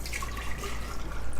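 Lemon juice poured from a cup into a pitcher for homemade lemonade gives a steady, close liquid trickle with light splashy dripping, running alone for a second and a half.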